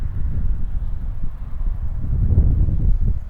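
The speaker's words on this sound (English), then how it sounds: "And it's definitely gotten windy." Steady wind buffeting a microphone outdoors in a park in Chanute, Kansas, a low rumbling roar that swells and gusts throughout without any voices.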